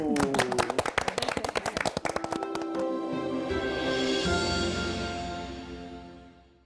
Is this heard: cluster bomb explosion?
no